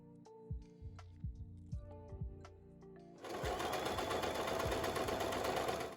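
Sewing machine running a straight stitch over elastic on a corset blouse, first in short stop-start bursts of thumping needle strokes, then a loud continuous run.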